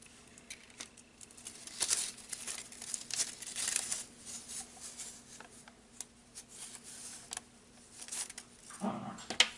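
Paper butterflies being folded by hand for an Easter card craft, with soft crinkling and rustling in short bursts close by, fairly quiet throughout.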